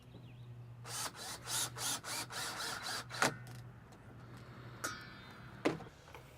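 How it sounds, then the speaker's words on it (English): A crush block screw being driven into a stair assembly with a power drill, heard as a rapid series of about eight buzzing whirs with short pauses, followed by a few sharp clicks and taps. The sound is close and clear, and no one speaks. "And secure it with a crush block screw."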